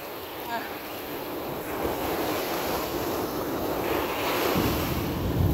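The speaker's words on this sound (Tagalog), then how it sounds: "Feel the waves muna." Ocean waves wash steadily onto a beach at Botolan, a broad continuous surf roar with wind buffeting the microphone, swelling slightly toward the end.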